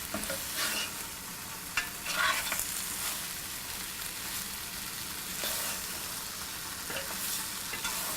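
Mutton pieces stirred with masala in a hot pan, a loud close sizzle with scraping spoon strokes and a few louder pushes of the meat, steady and continuous with no talk.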